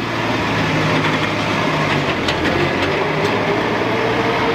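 A vehicle engine with no exhaust fitted runs at a steady idle, a low, even drone that holds close and moderately loud throughout.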